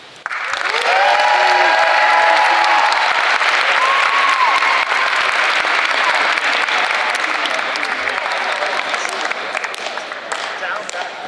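A large crowd at a student athletes' signing day applauds loudly and steadily for several seconds, with a few cheers and whistles near the start, slowly tapering toward the end.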